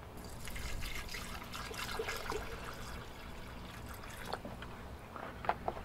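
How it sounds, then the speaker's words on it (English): Distilled water poured into a lab container during a silver recovery from brazing rod, a soft steady trickle and splash with scattered drips, fairly quiet and close. "We'll put some distilled water in here."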